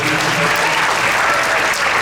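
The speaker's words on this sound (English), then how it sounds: "Round of applause for Ron Mead." Loud, dense applause fills a hall as the audience claps for Ron Mead at a sixth grade winter concert, a close, continuous roar of many hands.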